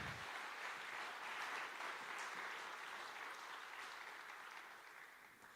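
An audience at a closing session of a talk on diplomacy and the UN applauds, a soft, steady roll of many hands clapping that slowly thins toward the end.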